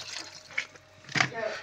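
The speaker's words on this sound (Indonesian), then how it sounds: "Kita langsung siram aja air biasa sobat ya, air dingin aja" Cold tap water is poured into the drain hole of a leaking two-door refrigerator, giving short splashing and trickling bursts close by, with a louder gush near the end.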